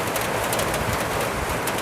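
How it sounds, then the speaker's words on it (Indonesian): Rain falls hard in a dense, continuous hiss that holds steady throughout, with a few brief brighter spatters on top and no voices. "hujan ya Allah"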